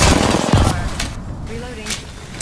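Video game gunfire comes in a few sharp bursts of shots, close and loud, while a player talks over the action.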